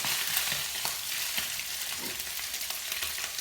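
Food frying in a pan on an electric cooker at medium heat, ahead of garlic and prawns for an Alfredo chicken dish; a steady, moderately loud sizzle with small crackles and no talking.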